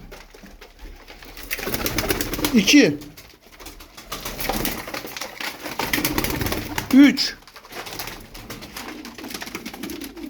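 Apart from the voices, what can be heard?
Ankara pigeons cooing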